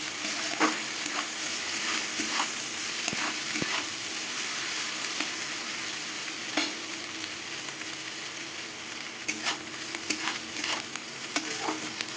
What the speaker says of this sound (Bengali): পেঁয়াজ লাল লাল করে ভেজে নেব